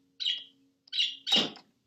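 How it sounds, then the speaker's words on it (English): A small pet bird gives three short, bright chirps close by, the last one fuller and louder, with quiet pauses between them. "Look who's here, little bird Blue"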